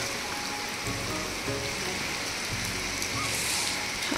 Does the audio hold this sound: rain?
yes